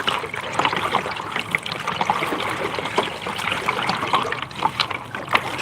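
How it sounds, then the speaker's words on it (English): River water trickles and splashes around a new kayak paddled upstream in the middle of the river, a steady, close, bubbling wash with no talk. "We are at the middle of the river."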